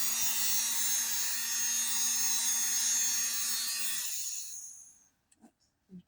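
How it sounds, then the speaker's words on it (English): A toy hair dryer whirs loudly and steadily for about four seconds with a faint steady hum underneath, then winds down and goes quiet, followed by a few soft handling clicks. "she wants to show everybody her new hair dryer"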